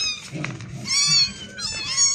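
A mother cat with her kittens meows close by: a few high, wavering calls rise and fall over a soft rustling background, with no talking.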